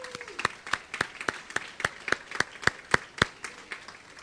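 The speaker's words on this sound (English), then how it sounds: "so please give it a round of applause for them." A small audience claps in honour of boys tennis division champions at a school board meeting. The claps come as a steady, evenly spaced rhythm, close and fairly loud, with no voices over them.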